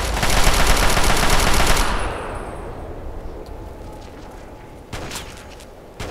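Gauss rifle fire in the video game Fallout 3 starts as a dense, loud burst of rapid gunfire that fades after two seconds into a quieter tail, with a couple of sharper shots near the end.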